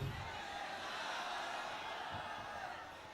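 Applause and crowd noise from an audience greeting a poet at an international mushaira in Biswan, Sitapur, a steady broad wash of clapping that fades slightly toward the end.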